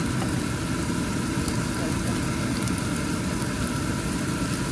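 A kitchen exhaust fan runs at full power over home cooking of spinach and lentils, producing a constant, dense whooshing hum that stays level throughout.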